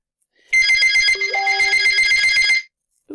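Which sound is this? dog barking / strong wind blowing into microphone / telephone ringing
telephone ringing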